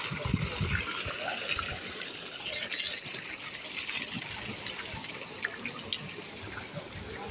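Water gushes and splashes steadily into a pool, a close, continuous rushing flow with a few brief louder splashes near the start.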